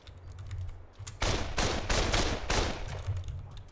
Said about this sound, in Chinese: 谁开枪？谁开枪？